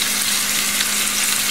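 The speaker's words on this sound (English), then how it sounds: "I'm going to put it in a hot oil to sear it." Beef searing in about a third of a cup of hot oil for a roast beef, a steady, close, crackling sizzle that holds evenly throughout with no talking.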